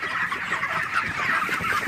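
Broiler chickens in a poultry shed on a hot day make a dense, continuous chorus of overlapping clucks and chatter from many birds close by, with no voices.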